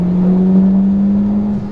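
A 2011 Mitsubishi Evo X GSR accelerates, heard from inside as a steady, strong engine drone holding a rising tone for under two seconds.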